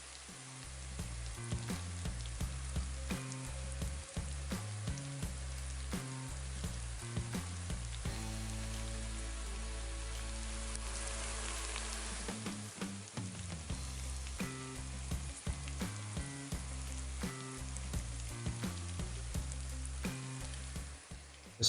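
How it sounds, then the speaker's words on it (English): Ground beef patties sizzle loudly and continuously in a hot skillet, with crackling spatter throughout, briefly settling into a steadier hiss before the popping picks up again. "Brown both sides by pressing lightly about 5 to 8 seconds, then transfer them to a plate."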